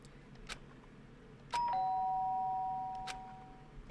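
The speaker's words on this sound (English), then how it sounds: "did I hear the doorbell?" A doorbell in the game Danganronpa: Trigger Happy Havoc rings one clear two-tone ding-dong that rings on and fades, framed by a few faint clicks. The room is quiet and no one speaks.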